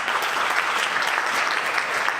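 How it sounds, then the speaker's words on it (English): An audience at a school's fall jazz concert gives a round of applause, dense and even clapping from a crowd in a hall, moderately loud and sustained throughout. "please, a round of applause for Dr. Chisholm and our high school administration"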